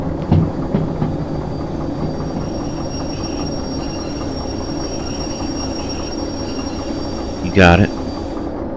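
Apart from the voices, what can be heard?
train braking to a halt in the video game Derail Valley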